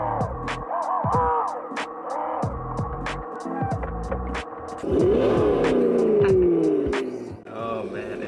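Red Hellcat RC buggy with its wheels on, running with a steady motor whine and rising, sweeping pitch as it revs, fairly loud and close, a little handling noise mixed in.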